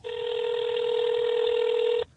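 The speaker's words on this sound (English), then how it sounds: "Phone's ringing." A single steady electronic telephone ring tone holds for about two seconds and then cuts off, loud and clear over faint background noise.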